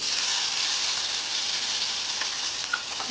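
Constant bright sizzling of mustard seeds spluttering in hot oil, with a few small pops and crackles toward the end, close and steady, no voices.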